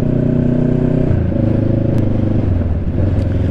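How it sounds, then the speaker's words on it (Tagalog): A 650cc Kawasaki sports cruiser motorcycle rides at night, its engine droning steadily with a low throbbing hum and shifting pitch, heard up close from the seat. "So, ito, itong inuupuan nating motorsiklo ngayon, si Estong"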